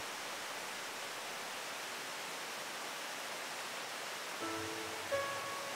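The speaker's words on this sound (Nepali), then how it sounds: "यहाँदेखि तल चाहिँ पुरै झरना बग्ने रहेछ" Dhiplung waterfall in Khotang seen from above its crest, a steady broadband rush of falling water that holds constant throughout, with a few faint tonal chirps and a soft low rumble near the end.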